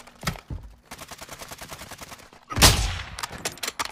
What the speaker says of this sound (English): Oh, somebody sniped.